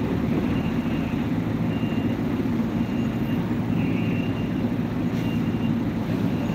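A ship's engine at Merak port gives a continuous low, rumbling drone while the vessel raises its ramp, steady and heavy throughout with no clear breaks.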